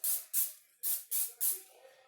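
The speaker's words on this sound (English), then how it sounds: "I'm going to spray it again." Cooking spray hissing onto a pizzelle iron in five quick bursts, close and loud, with short gaps between them.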